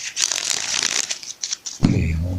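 Oracle cards being shuffled by hand, a dense rapid riffling flutter running close and steady for about two seconds before stopping, with a brief low thump at the end.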